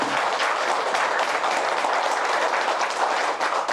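A crowd at a Buddhist temple sisterhood ceremony breaks into applause, a dense and fairly loud wash of many hands clapping steadily with no voices over it.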